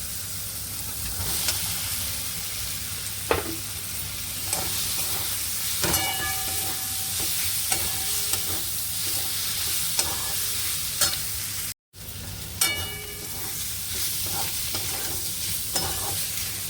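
Fried potatoes sautéed with tomato, turmeric, chilli and salt in a pan for a papad-aloo dish, stirred with a steady sizzle and repeated scraping clinks of a utensil, close by, with a brief dropout near the end.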